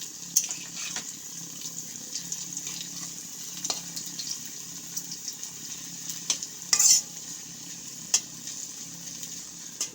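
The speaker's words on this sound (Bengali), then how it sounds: "এটাকে আমি উলট পালট করে নেব একটু ভেজে" Shredded potatoes for jhuri aloo bhaja are turned in hot frying oil, with scraping stirs and sharp metallic clicks over a faint sizzle, and no one speaking.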